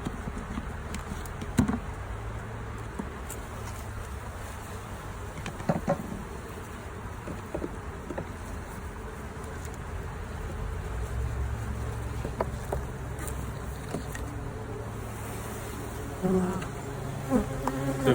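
Honey bees swarm around a hive while a small nucleus colony is moved into it, a steady close buzzing hum running throughout with occasional louder individual bees passing near, no talking.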